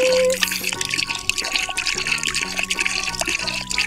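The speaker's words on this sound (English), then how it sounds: "let's put back our bow wand and pour in some of our Orbeez" Orbeez water beads are poured into a toy, making a wet, trickling patter. The pouring carries on under background music and sits fairly close.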